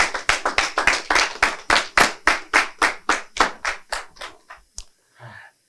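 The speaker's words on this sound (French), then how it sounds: "On les applaudit." Rhythmic unison hand clapping for musicians at a live show, a steady beat of about a dozen sharp, loud claps that slows and thins out, ending in a few scattered claps and silence.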